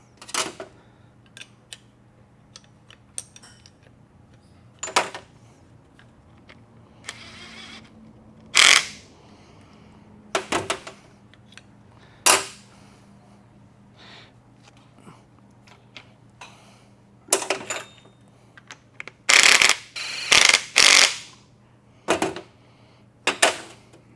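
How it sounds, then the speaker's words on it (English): Short bursts from an impact wrench tightening a lock nut on a WP motorcycle fork during a Dal Soggio Sphere install, several separate rattling hits spread through a quiet workshop with small clicks and handling noises between them. "I'll use the impact to tighten the lock nut up to it."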